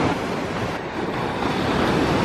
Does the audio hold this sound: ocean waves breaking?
yes